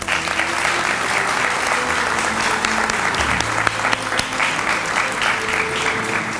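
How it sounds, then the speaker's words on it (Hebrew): A crowd breaks into loud, continuous applause that fills the room and holds steady for several seconds, with faint low tones running underneath. "ומגיע להם כפיים."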